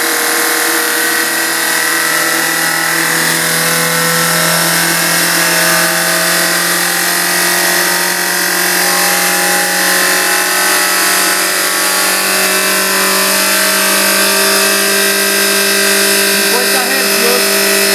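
A spring test rig's electric motor runs steadily at 50 Hz mains input, 1500 RPM, with the camshaft turning at 3000 RPM, giving a constant loud mechanical hum and whine with layered steady tones throughout.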